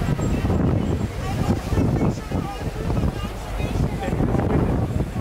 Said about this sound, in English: Look how windy it is right now.